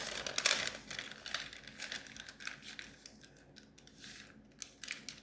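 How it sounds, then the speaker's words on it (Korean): Paper being folded and pressed for an origami gold dragon, producing faint crinkles, light crisp rustles and small taps close by, quiet and irregular, with no talking. "그 다음은 뒤집어서 이렇게 여기 이 부분이 쏙 들어가도록 이렇게 접어줍니다."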